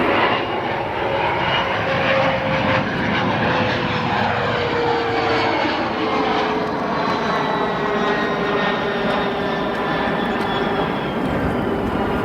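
Aircraft engines roar steadily at Chicago O'Hare International Airport, a loud, continuous whine and rumble with a slowly shifting pitch as a plane passes nearby.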